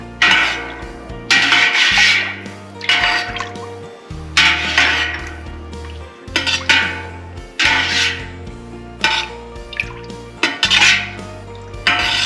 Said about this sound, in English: Use an up and down motion with your stirring so that it gets completely incorporated into all of your milk.